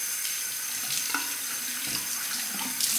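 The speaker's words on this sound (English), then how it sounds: "Let's rinse it." Tap water runs steadily into a sink to rinse a Merkur 15C or 25C safety razor, a continuous close splashing hiss with small shifts as the razor passes under the stream.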